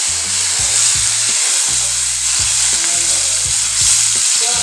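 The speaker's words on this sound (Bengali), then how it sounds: "এই দেখো একটু ভালো করে ফ্রাই করবো, একদম লো ফ্লেমে ভালো করে ফ্রাই করবো।" Peanuts fry in hot oil in a wok over low flame, giving a loud, close, continuous sizzle, while television sound with voices plays in the background.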